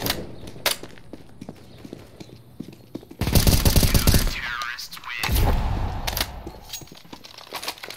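Gunshots in the video game CS:GO, with sharp single cracks scattered early, then a loud burst of heavy rapid fire and a second volley, mixed with game noise and clattering footsteps.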